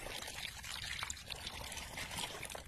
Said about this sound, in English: Or if you prefer, cool them down with cold water.